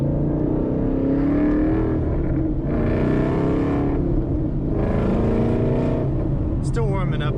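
A Ford Mustang GT engine pulls loud and close, its note climbing and dropping as it shifts through the gears, with a brief clatter near the end.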